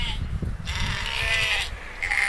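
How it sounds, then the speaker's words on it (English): Sheep bleat loudly and continuously, several overlapping wavering calls up close with a rough, buzzy tone and no pauses. "The sound that a sheep makes, the complex language of sheep"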